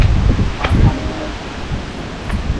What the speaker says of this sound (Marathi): गार वारा येतोय.